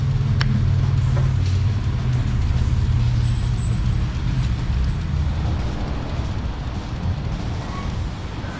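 A parts washer powers on and runs with a loud, steady, low mechanical hum and broadband whir, continuous and close for the whole stretch with no talk.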